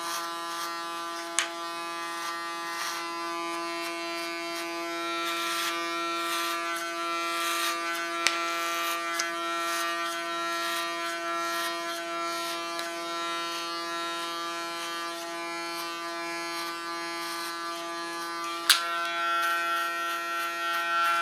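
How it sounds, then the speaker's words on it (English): Electric hair clipper cutting short hair, a steady close-up electric buzz with a bright whine running continuously, with a few brief sharper clicks and no talk. "Again, use my clipper as a comb."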